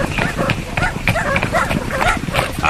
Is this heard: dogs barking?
yes